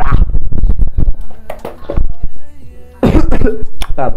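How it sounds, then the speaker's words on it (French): A man coughs and clears his throat a few times in quick bursts, close and fairly loud, between stretches of his own French talk. "je tousse"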